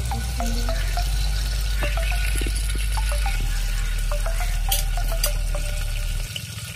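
Spices for tempering sizzle in three tablespoons of hot oil for a village-style papaya curry, a steady close crackling hiss with scattered pops and faint kitchen clinks throughout.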